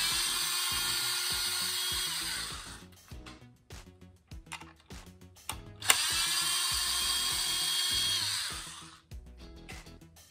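Power drill backing screws out of a Traxxas Slash 2WD skid plate, two close whirring bursts of about three seconds each with clicks and handling noise between them.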